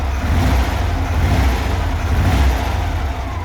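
Volkswagen Beetle (Fusca) engine running steadily after the distributor has been installed, a loud, continuous near rumble with a low throbbing note and no speech over it.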